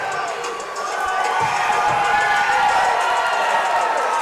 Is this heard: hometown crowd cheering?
yes